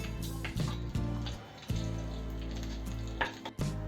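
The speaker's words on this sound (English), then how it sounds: "Wait till the mustard splatters." Mustard seeds popping in dry-fish-flavored oil over a low flame: a steady frying sizzle broken by a few sharp, close crackles and spits, no voices.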